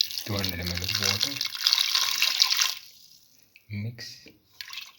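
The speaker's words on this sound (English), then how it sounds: "Now pour in 200 ml of water." Water, 200 ml, pours into a pressure cooker pot of pigeon pea and potato stew in a steady splashing stream for a few seconds, stops, then a couple of shorter pours follow, with a faint voice underneath.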